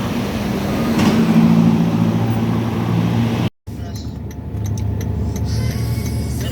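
Dense southbound road traffic on EDSA in Pasay, Manila, producing a steady, loud engine drone and hum that drops out briefly midway before resuming.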